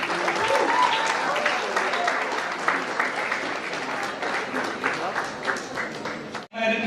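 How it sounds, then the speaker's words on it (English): An audience at a launch event claps loudly and continuously for several seconds as a guest heads to the stage, with faint crowd voices mixed in before it stops abruptly at the end. "Please give a huge round of applause to sir."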